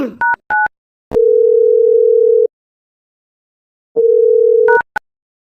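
A telephone call being placed: a couple of short dial-pad beeps, then long steady ringback tones separated by silence, loud and close with no voices.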